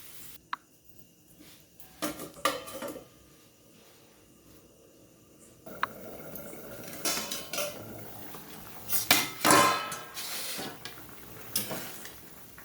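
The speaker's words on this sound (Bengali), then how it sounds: "দিয়ে আমি এবার একটা পাত্র দিয়ে ঢেকে দেবো।" Metal cookware clinks and clatters in a home kitchen as a pot is covered with a lid during the cooking of a potato and lentil dish. Sharp clanks come in short clusters between quiet stretches, with faint background hiss.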